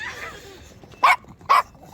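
A small pinscher-type dog gives two sharp, loud barks spaced about half a second apart, close by, following a brief stretch of quieter indoor noise.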